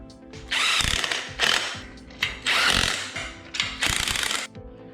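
Power tool or ratchet work tightening bolts on the torque converter driver and driven clutch of a GoPowerSports Mega Moto 80/105 minibike, heard as four loud, separate bursts of whirring, rattling mechanism noise with brief pauses between them.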